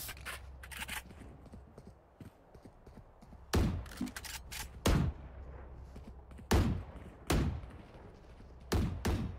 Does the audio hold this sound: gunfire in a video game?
yes